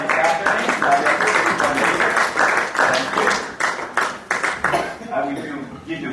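A conference audience at a talk on European political integration applauds a speaker. Dense, energetic clapping fills the room, then thins and fades toward the end, with voices faintly underneath.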